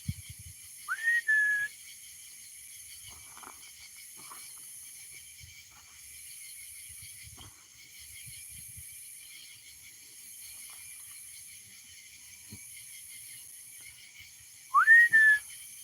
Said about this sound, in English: I'm gonna whistle, guys.